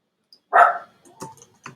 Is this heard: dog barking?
yes